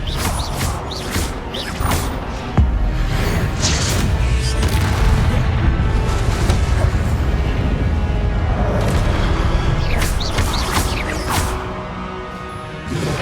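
Fiery Confringo blast spells burst in a Hogwarts Legacy battle, a dense, continuous roar of magical explosions, booms and crashing impacts, loud and close throughout with a sharp hit near the start.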